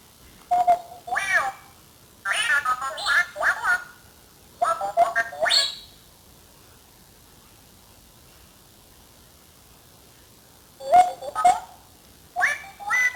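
Chirpy electronic bleeps and warbling synthesized tones from a Homy 77 remote-control toy robot, coming in short bursts with quiet gaps between them.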